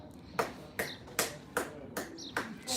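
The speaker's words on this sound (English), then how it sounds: "Spattering of applause" Sparse claps from the crowd at an indoor bowls panel match, several distinct, evenly spaced claps at a modest level, with no talk over them.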